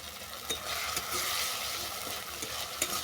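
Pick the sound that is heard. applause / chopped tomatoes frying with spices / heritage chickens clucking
chopped tomatoes frying with spices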